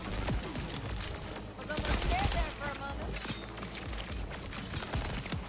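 SMG fire in a video game: rapid bursts of gunshots mixed with clattering in-game effects, loud and busy throughout, with a voice talking over the action.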